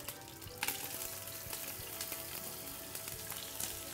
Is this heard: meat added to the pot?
yes